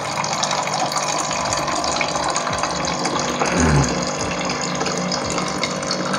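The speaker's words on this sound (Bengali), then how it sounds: "অনেক পাওয়ারফুল মোটর জল দেওয়ার সঙ্গে সঙ্গে নিয়ে নিয়েছে" A powerful electric water pump runs steadily, drawing and pushing water with a continuous loud broadband rush and gushing flow, no talking.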